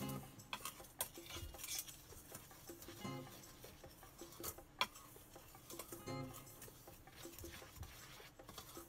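Beer bread batter is stirred in a bowl with a utensil: quiet, irregular scraping and clinking taps scattered across the stretch, with no voices.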